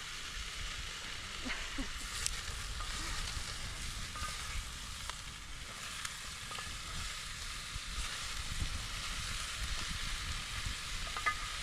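Butter melting and sizzling in a pan as vegetables are about to be gently warmed, a steady crackling fry heard close and continuous throughout, with a few faint clicks over it.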